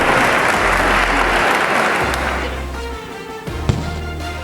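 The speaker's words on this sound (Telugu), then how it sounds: "జంగువేణి గారు గట్టి చప్పట్లతో ఆహ్వానిద్దాం" Loud audience applause welcoming a contestant to the stage at a singing competition, a dense roar of clapping that gradually fades while a low musical tone sounds beneath it.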